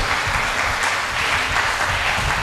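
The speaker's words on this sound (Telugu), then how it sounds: "గట్టిగా చప్పట్ల కొట్టండి" Loud, steady applause from a church congregation, with dense, continuous clapping throughout and hardly any voice over it.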